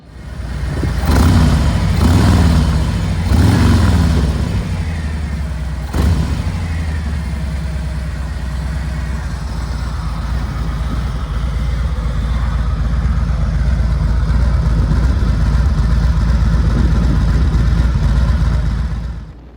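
A Harley-Davidson Road King Special idles through its stock 2-into-1-into-2 exhaust, its low rumble steady and close, with a few sharp throttle blips near the start before it settles into an even idle.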